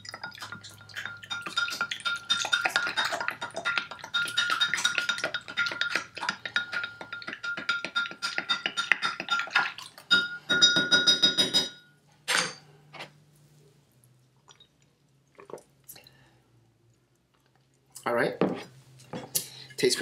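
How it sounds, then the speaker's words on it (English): A spoon stirs an apple cider vinegar and honey drink, rapid close clinking against the glass for several seconds, then sparse taps and a few more clinks near the end. "And then you just stir it."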